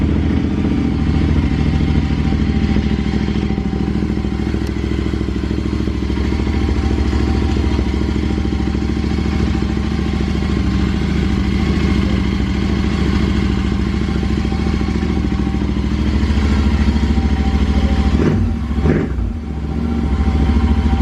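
ADV motorcycle engine firing up and idling steadily, a loud, continuous close-range rumble with a brief rev or clatter near the end.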